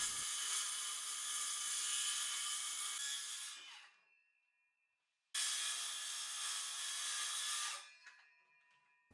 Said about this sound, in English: I can follow the line with my circular saw to trim away the excess